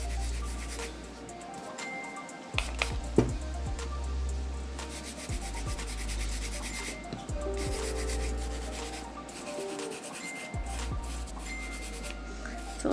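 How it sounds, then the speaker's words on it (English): A plush brush scrubs prep and scrub cleanser into a fingernail, a soft continuous close-up rubbing that keeps going for several seconds at an even level. "I'm going to use my prep and scrub on my plush brush, and I'm just going to scrub this into the nail"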